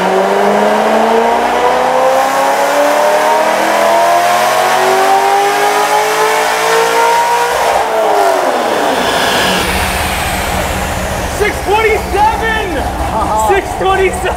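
A Chevrolet Corvette Z06 engine on a dyno climbs in one long, loud pull with a rising roar. It then cuts back to a rough idle while excited voices break in.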